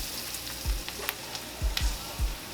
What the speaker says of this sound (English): we want to kind of fry this flour almost